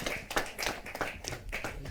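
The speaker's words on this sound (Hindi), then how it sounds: "जोरदार तालियों के साथ" Brief clapping from an audience at a Hindi kavi sammelan poetry gathering, a handful of uneven, fairly close hand claps over roughly two seconds.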